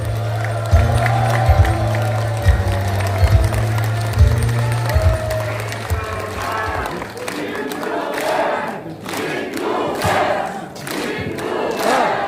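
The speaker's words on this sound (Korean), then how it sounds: "김두관 위원장님을 뜨거운 박수로 무대 위로 모시겠습니다" A large crowd at a party new-year rally in Gyeongnam and Busan welcomes a speaker to the stage. Steady background music gives way to a swell of loud applause and cheering voices.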